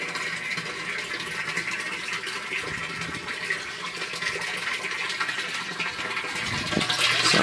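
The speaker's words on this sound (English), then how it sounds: "we're just starting the siphon, and we'll see what happens this time. And it also makes a louder sound." A bell siphon draining water from a blue barrel aquaponics setup: a continuous loud rushing gurgle and whoosh of falling water that swells slightly toward the end.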